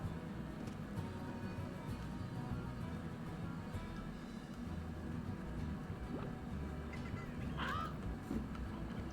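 Fowl honking and clucking in the video game Slime Rancher, with scattered calls over a dense, steady background din of game ambience, moderately loud and continuous.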